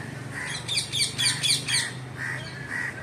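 A crow squawks outdoors in a quick run of harsh, loud calls near the listener, followed by a couple of softer, spaced caws against faint background ambience.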